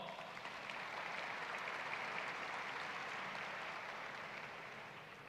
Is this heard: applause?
yes